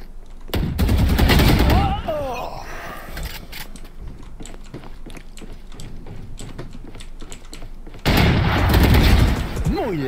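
Rapid bursts of Valorant gunfire crackle in two loud volleys with quieter clicking and effects between them.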